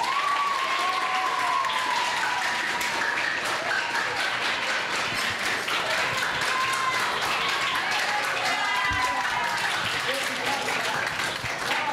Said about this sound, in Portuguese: Os amigos aplaudiram a conquista da medalha de bronze.